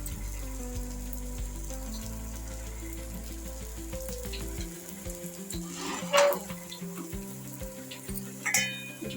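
A jowar millet paratha cooks with a little oil on a pan, giving a soft, steady sizzle beneath a low hum, with a few brief crackles and clinks toward the end.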